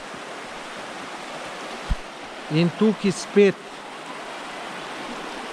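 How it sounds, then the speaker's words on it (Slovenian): An underground river in the Škocjan Caves rushes in a steady, broad wash of flowing water, while someone speaks briefly over it partway through. "reka še naprej teče"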